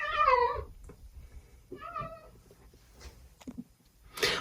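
A house cat meows close by, with two distinct drawn-out cries a second apart, followed by quieter shuffling and a short sharp noise at the end in an otherwise quiet room.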